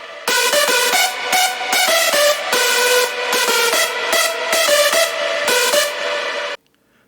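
Layered hardstyle synth leads in FL Studio, drenched in reverb and delay: a continuous bright, washy melodic line with rhythmic stabs and echoing tails, loud and unaccompanied, ending in an abrupt cut to silence.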